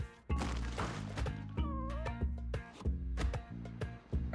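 In Spelunky 2, a kitten gives a short meow amid steady in-game music, thuds and whacks, with the cat call standing out briefly in the middle.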